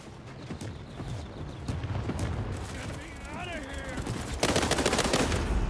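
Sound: gunfire from an enemy shooting through a bush in the video game World War 3

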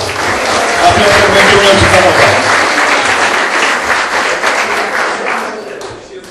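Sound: audience applause at a gala

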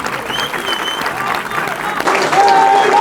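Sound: crowd applause

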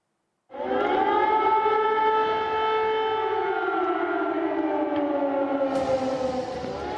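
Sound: air raid siren across Ukraine

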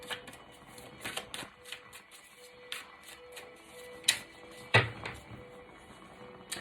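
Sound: drawing a tarot card from the deck

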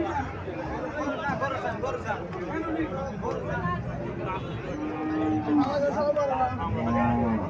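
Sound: dairy cows mooing at cattle market

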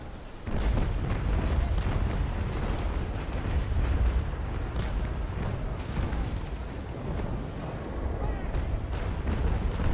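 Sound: cannon fire in Naval Action video game

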